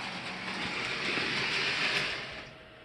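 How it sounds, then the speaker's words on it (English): A train reverses steadily toward the main line, giving a continuous rumbling rail roar with faint clatter that stays loud and even before fading slightly at the end. "Train backs out in reverse until it reaches the main line north"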